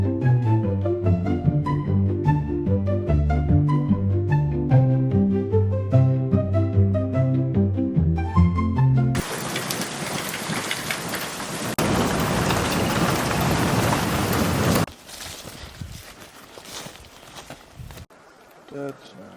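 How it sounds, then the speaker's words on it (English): Hail pelts down hard during a spring turkey hunt in the Black Hills, a dense roaring clatter following music, loud and continuous before easing into scattered patter and a few footsteps. "No, just more hail."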